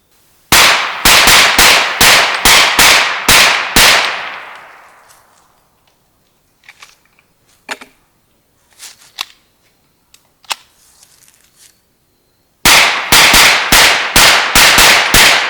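Rapid gunfire from a Hi-Point .45 carbine: a fast string of about eight loud, sharp, close shots, a pause filled with faint clicks and handling noise, then another quick volley.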